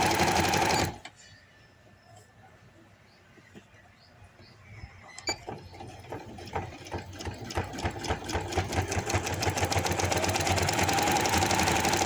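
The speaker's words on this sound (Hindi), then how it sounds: "थोड़ा थोड़ा पकड़ के सिलाई लगाते जाएं, ज़्यादा पकड़ने की कोशिश नहीं करें" After a quiet pause with handling noises, a sewing machine starts up and stitches a handkerchief baby frock, its needle rattling in a fast, even rhythm that grows louder and steadier.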